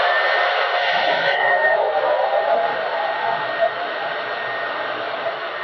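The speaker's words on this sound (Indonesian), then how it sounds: "Hair dryer yang hampir 1000 watt ya." A salon-style hair dryer of nearly 1000 watts runs steadily, a continuous loud whooshing blower hum with a whining motor tone, heard close and alone.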